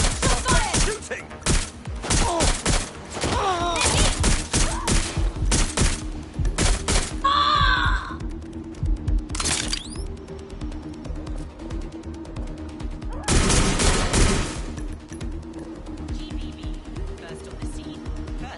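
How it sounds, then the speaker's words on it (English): Gunfire rings out in the video game Watch Dogs Legion. Sharp loud shots come in rapid bursts across the scene, some bunched in fusillades, while people talk and shout over the shooting. "Shooting!"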